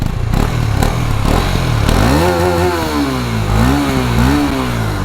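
A KTM Duke 250 motorcycle's exhaust crackles at idle, then the rider blips the throttle in repeated revs that rise and fall, loud and close.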